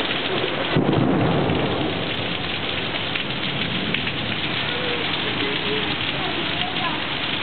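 A Texas thunderstorm with loud, steady rain pouring down close by and a deep rumble of thunder early on, the downpour continuing as a dense roar throughout.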